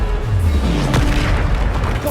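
A Bombarda spell explodes in Hogwarts Legacy with a loud, deep booming blast and rumbling low-end roar. The boom runs continuously through the short moment amid battle noise, and a voice speaks over it.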